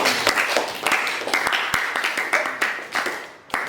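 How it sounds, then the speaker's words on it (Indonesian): Classroom applause for two classmates, a short burst of many hands clapping in uneven rhythm, close and moderately loud, fading toward the end. "Beri tepuk tangan untuk kedua teman kita"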